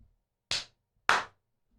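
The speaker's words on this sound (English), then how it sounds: "Got to do the clap." Two sharp hand claps, about half a second apart, close and crisp in an otherwise quiet space.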